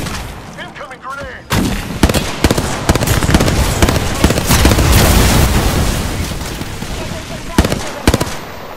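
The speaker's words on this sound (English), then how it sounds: "Incoming grenade!" A grenade blast in the Apex Legends battle royale shooter erupts as a loud, dense roar that lingers for several seconds, surrounded by sharp gunfire cracks, with a brief voice line just before.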